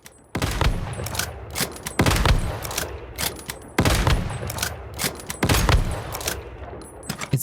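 Sniper rifle fire in the video game Once Human: five loud, sharp shots spaced about every one and a half to two seconds, each followed by a ringing tail, with no talk over them.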